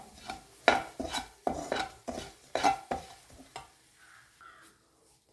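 Chili powder stirred and roasted in a pan for anchovy fish pickle: a run of distinct scraping spoon strokes with soft sizzling, about ten rhythmic stirs, then near-quiet with faint kitchen noise at the end.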